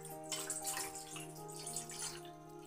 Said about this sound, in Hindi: अब इसमें हम पानी डाल देते हैं, इसको पानी से भर देते हैं।